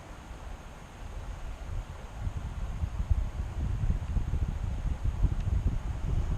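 Wind blowing out in the woods, a low rumbling buffet that builds after a couple of seconds and keeps gusting steadily, heavy against the microphone.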